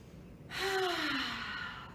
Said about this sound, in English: We're gonna breathe in